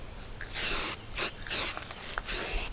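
Spray paint can hissing outdoors on a windy day in bursts, several short sprays of about half a second each separated by pauses, close to the microphone.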